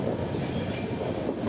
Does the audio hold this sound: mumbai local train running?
yes